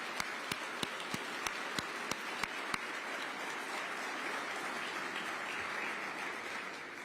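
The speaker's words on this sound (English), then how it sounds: "Let's just give a round of applause to everyone who was here for us." Audience applause at a Veterans Day gathering with the New York City mayor: a steady, dense wash of clapping from a large crowd, with a few sharp, louder claps near the front standing out during the first few seconds.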